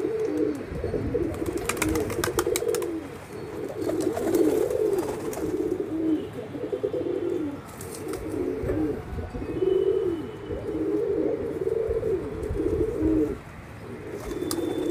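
Pigeons, including an old Kalsara, cooing repeatedly in low rolling calls close by during a pigeon flying session, with faint chirps and background rustle.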